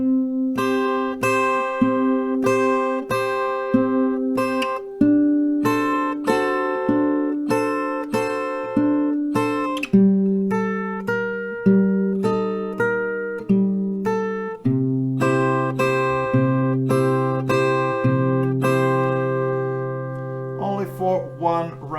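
A song's melody picked on an acoustic guitar, clear plucked single notes over bass notes in a steady moderate rhythm, played close and alone with no talking.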